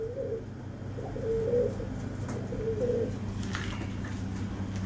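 Soft repeated cooing from a Sialkoti pigeon, several low rolling coos spaced about a second apart over a steady background hum.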